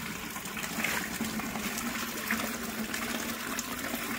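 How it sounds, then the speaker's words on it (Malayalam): Rainwater rushes through a large pipe during heavy, nonstop rain, making a steady broadband gushing roar that holds at an even level throughout, with no talking. "വലിയ പൈപ്പ് ഉണ്ട്, അതിലേ കൂടെ വെള്ളം പോകുന്നതാണ്"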